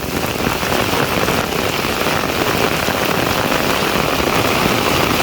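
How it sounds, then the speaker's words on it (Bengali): Heavy monsoon rain pours down steadily in a village, a dense continuous roar of drops hitting surfaces, loud and close with no voices. "কি রকম বৃষ্টি নামছে।"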